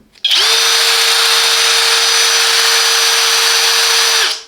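Parkside jigsaw attachment driven by a cordless drill, running at a steady loud whine for about four seconds after a brief spin-up, then cutting off abruptly.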